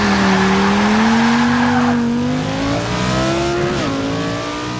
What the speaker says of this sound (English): I'm driving along in this Lamborghini and I need extremely precise throttle to brake control